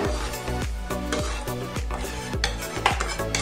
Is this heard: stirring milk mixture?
yes